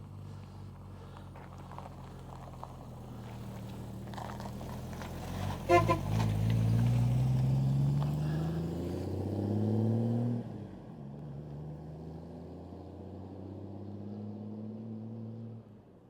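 A previously rolled-over Jeep pulls away on the road, its engine droning steadily and rising as it accelerates, with a brief horn toot partway through and the motor settling back to a lower hum.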